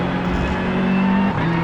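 A Porsche engine in a driving video game, a loud, steady close-up drone holding one pitch before a brief shift near the end.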